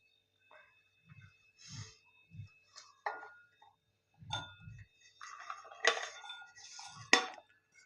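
Cumin, turmeric and salt pounded in a stone mortar and pestle: sparse, irregular dull knocks and sharper clinks sound close and fairly quiet, with short silences between strikes.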